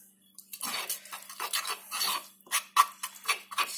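A spoon scrapes and clinks around a bowl while stirring a paste for oven-baked mackerel, quick rhythmic close-up scraping with small ticks against the bowl, no talk.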